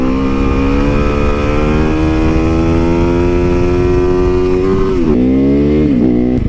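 A Supermoto motorcycle cruising on the road, its engine droning loud and steady close by with a constant harmonic hum, shifting pitch briefly near the end as the rider changes speed.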